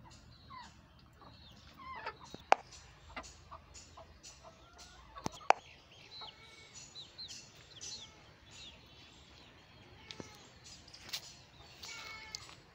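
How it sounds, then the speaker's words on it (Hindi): Aseel chickens clucking in a yard setup, scattered close clucks and squawks at irregular intervals with a few sharp louder calls over quiet background. "ये भी कुछ असील मुर्गिया है इसका भी शौक करे"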